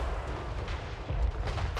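Cannons firing in Total War Warhammer 3, a steady barrage of deep, booming blasts rolling one into the next, with a heavier thump near the middle and a dense low rumble throughout.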